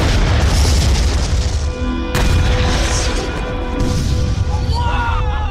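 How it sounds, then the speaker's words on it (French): A huge, deep explosion booms and keeps rumbling, a heavy low roar that fills the whole stretch with a sharp crack in the middle. "L'explosion est extraordinaire, l'onde de choc magnifique"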